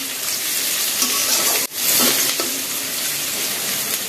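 Chopped onions frying in a hot pan for chicken bhuna khichuri, a steady close sizzle with a faint stirring scrape partway through and no talk.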